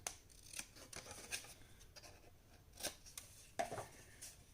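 Paper being cut at the corners for a handmade accordion mini album, heard as a few soft, quiet snips and light paper rustles close by, with no talking.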